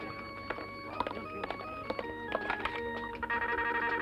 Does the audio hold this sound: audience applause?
no